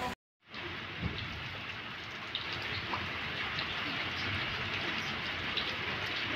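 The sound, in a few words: rain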